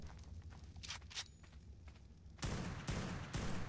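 Sniper rifle in ARK Myth firing a few spaced, sharp cracks, faint at first and then three louder, closer reports near the end over a low background rumble.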